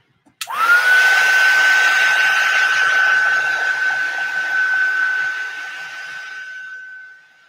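Hair dryer switched on abruptly and run for about seven seconds over art journal collage paint, a loud steady blowing whir with a sustained motor whine, tapering off as it shuts down.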